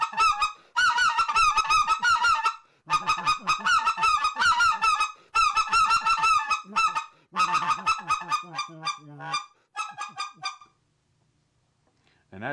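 A handheld goose call mimics geese with clear air yodels: loud, rapid, honking bursts in quick runs separated by short pauses, ending in quiet.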